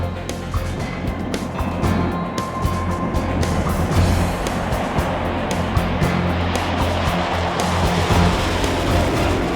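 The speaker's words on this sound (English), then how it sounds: "When it fires up, its twin engines shake the earth." CF-18 Hornet fighter jet firing up its twin engines, a loud, dense rumbling roar with a steady low drone and rising hiss, close and sustained throughout without speech.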